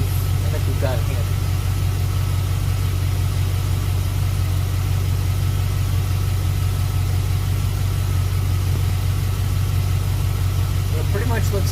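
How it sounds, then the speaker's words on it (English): A C4 Corvette engine idles steadily just after starting, a loud, continuous low rumble with an even drone that holds unchanged throughout. "Now starting the car, it's like we normally do."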